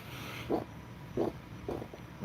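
A person imitates a growl heard upstairs in a mansion, making three short, quiet, throaty grunts spaced about half a second apart over a faint room hum.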